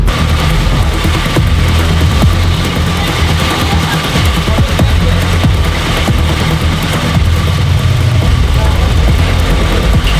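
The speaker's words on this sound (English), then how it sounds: "it wouldn't take much for it to keep running on its own fumes or its own oil" A small engine runs on by itself with no load, dieseling on its own oil or fumes, giving a steady, loud, continuous low rumble with a constant hum throughout and no change in pace.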